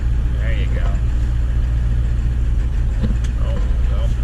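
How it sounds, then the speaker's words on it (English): A Ford 7.3 Powerstroke diesel engine idles rough, a loud, steady low rumble heard up close, with brief voices over it. "It's idling weird."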